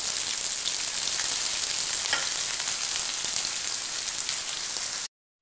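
Chopped onions fry in hot oil with mustard seeds and cumin for a brinjal masala, giving a steady, close, crackling sizzle. It cuts off abruptly at the end.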